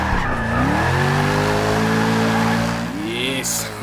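A 2016 Mercedes C63 AMG S Coupe drifts through a racing-game corner in Forza 6, its engine droning steadily with a long, loud tire squeal sweeping in pitch and a brief engine rise near the end.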